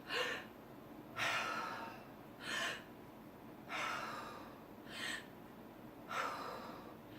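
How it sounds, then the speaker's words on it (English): Six sharp, quiet breaths are drawn high into the chest during a breathing exercise, spaced about a second apart. Each is a brief airy gasp against near silence. "instead of it being right down into your belly, it's going to be more into your chest, and like a gasp"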